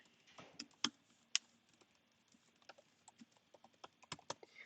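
Typing on a computer keyboard while entering a commit message, with quiet, irregular clicks and a few sharper key strikes heard close and alone.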